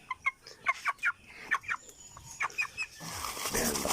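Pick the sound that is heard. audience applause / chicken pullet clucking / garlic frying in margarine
chicken pullet clucking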